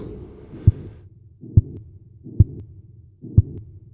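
Heartbeat sound effect: four deep, muffled thumps spaced about a second apart, each with a soft low swell, loud and isolated against near silence.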